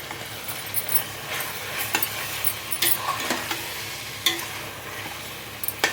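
Chili powder tipped into pappucharu, a lentil soup frying in a pan, giving a steady crackling sizzle with soft stirring scrapes and a few brighter clinks of a utensil against the pan.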